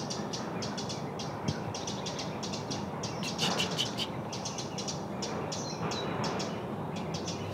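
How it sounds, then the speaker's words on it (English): Several birds chirp and sing in quick bursts in woods on a morning, over a soft, steady outdoor background, some nearer and some farther away. "So many bird sounds around me,"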